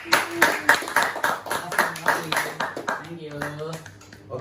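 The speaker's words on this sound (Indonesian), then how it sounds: "Tepuk tangan dulu dong buat Niko dan Eva." A few people in a small podcast studio clap for two guests, a sparse, close, rhythmic patter of hands mixed with speech and laughter.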